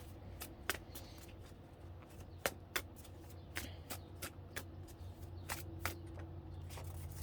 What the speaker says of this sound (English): back of the deck before I start shuffling